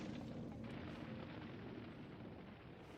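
A dense, sustained rumbling roar of explosions and falling debris fills the scene in Alan Wake's American Nightmare, loud and continuous with a slight fade toward the end.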